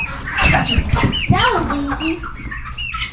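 Chickens cluck close by on a farm while a person talks over them, the hens' calls rising and falling in short bursts.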